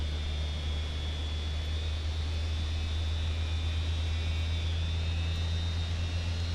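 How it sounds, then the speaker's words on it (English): Rear-mounted engine of an L-1011 TriStar airliner spinning up in the Microsoft Flight Simulator 2024 game, a steady continuous low hum with a faint high whine running throughout, with no speech. "that engine is in the back spinning away"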